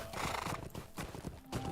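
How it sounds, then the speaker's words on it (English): A horse mount in the video game Lord of the Rings Online trots with steady clip-clop hoofbeats, and a whinny sounds over them. The sound is moderately loud and continuous, with no talking. "I have a horse!"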